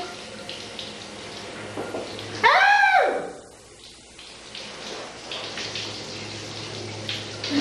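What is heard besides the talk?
shower water running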